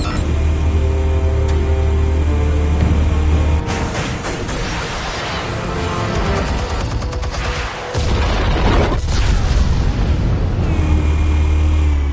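Explosives detonating in a video game, a sustained barrage of booms and rattling blasts with a heavy low rumble, loud and continuous, one deep thud near the middle and steady engine-like drone around it.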